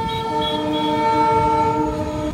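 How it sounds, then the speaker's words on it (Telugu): A Telangana Express train sounds a long, loud, steady horn as it approaches, with a low rumbling rail background beneath the sustained tone. "అదిగో తెలంగాణ ఎక్స్ప్రెస్"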